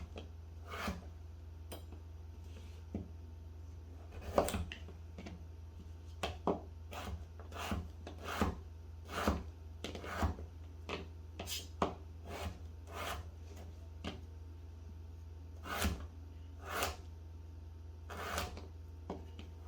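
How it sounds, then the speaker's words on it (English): A knife cuts beets into quarter-inch slices on a board, giving a series of separate, irregularly spaced chopping knocks, close and fairly quiet over a low steady hum. "We're going to cut them into about 1/4 inch slices."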